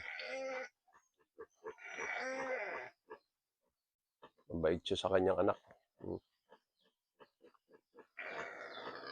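Pigs grunting and squealing in short bursts, close by in a pig pen, alternating with a person talking.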